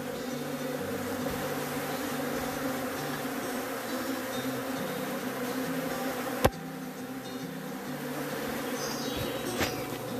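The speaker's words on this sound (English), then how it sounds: "Bees all over the place" Honeybees at an opened hive buzz continuously in a thick, droning swarm, with one sharp click partway through.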